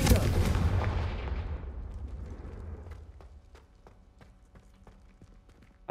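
A Confringo blast spell from Hogwarts Legacy on PS5 erupts as a loud, broadband explosive burst that decays over a couple of seconds, followed by quieter scattered clicks and crackles of debris.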